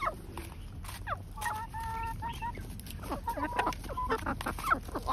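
A rooster and hens peck at feed on the ground, giving a string of short, close clucks and squawky calls from several birds over a scratchy, rustling background.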